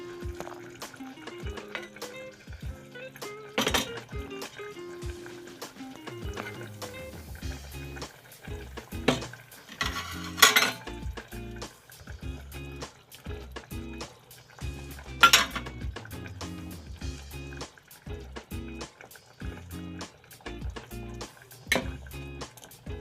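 Beaten eggs going into a simmering pan of egg masala, five eggs used, heard amid a close series of sharp clinks and knocks of utensils against the pan, with quiet gaps between them.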